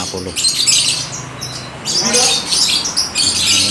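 Lovebirds chirp and squawk in a bird shop, bursts of sharp, bright calls in two clusters with short gaps, fairly close, over a faint background murmur.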